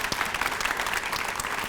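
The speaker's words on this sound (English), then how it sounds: "Let's give them a round of applause." Honorees at a school awards breakfast receive a steady round of crowd applause, many hands clapping densely and evenly from start to finish.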